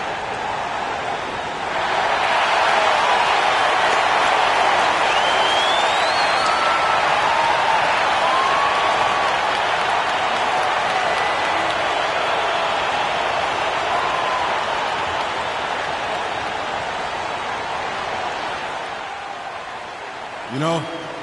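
A virtual crowd at center court in a basketball video game applauds and cheers in a long, even wash of sound that swells early, holds steady, then fades near the end.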